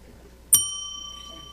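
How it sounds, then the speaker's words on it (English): A single bright bell ding rings out once in a quiet meeting room, with a sharp strike followed by a long, clear, ringing decay. "That's two bells."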